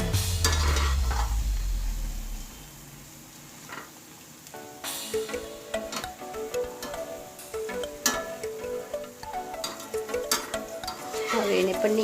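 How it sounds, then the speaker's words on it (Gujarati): Green pigeon pea kachori deep-frying in hot oil, giving a steady sizzle with scattered crackles and occasional stirring clatter, close and fairly loud, with a louder burst of bubbling near the start. "હવે એ જ રીતે બધી કચોરીને તળી લઈશું."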